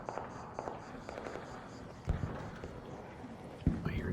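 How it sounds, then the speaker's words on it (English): Sharp gunshots crack in the game Arc Raiders on PS5, several scattered bursts over a steady background, with two louder reports standing out. "I hear gunfire."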